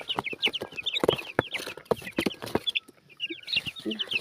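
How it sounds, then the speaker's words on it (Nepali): Small chicks and hens cluck and peep close by outdoors, a busy scatter of short high chirps and soft clucks, with a few quiet human sounds mixed in. "छोटा चल्ला"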